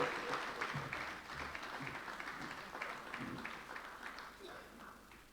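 Audience applause at a competitiveness summit in Zimbabwe, a steady, moderate clapping from a crowd lasting several seconds and slowly fading, heard at a distance in a large hall.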